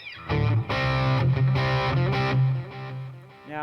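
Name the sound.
distortion on Boss Katana MK2 amp, Gibson Les Paul Studio guitar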